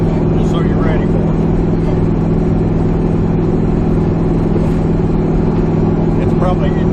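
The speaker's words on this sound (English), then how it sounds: "put it in second gear, and then we'll kind of turn it loose, and then you can see what it'll do" A race car's engine roars loud and steady from inside the cockpit as it pulls in second gear, a constant heavy drone filling the whole stretch, with occasional voices faintly over it.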